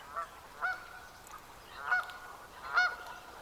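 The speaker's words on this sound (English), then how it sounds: "the ruddy shelduck is considered a sacred bird" Ruddy shelduck on the Tibetan plateau giving three loud, nasal goose-like honking calls spaced about a second apart, fairly close with a quiet background.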